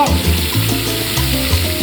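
Onions frying in a wok in a restaurant kitchen, a loud continuous sizzle close by with faint stirring underneath.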